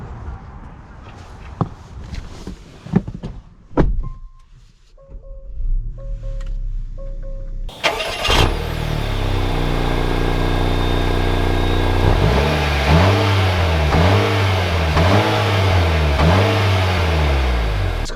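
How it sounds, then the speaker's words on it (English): Footsteps and small clicks lead into a 2021 Acura RDX A-Spec engine starting with a loud burst, then settling into a steady run that rises and falls in repeated revs as the SUV pulls away, close and loud. "let's take the RDX out and see how it drives."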